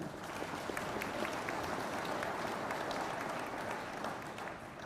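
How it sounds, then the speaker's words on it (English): Sustained applause fills a university graduation ceremony hall, a dense, steady wash of many hands clapping at an even level throughout with no break. "give a round of applause"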